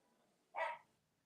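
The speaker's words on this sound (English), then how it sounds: "No, Truff is barking." A dog lets out one short, sharp bark at a moderate distance, brief and alone against a quiet background.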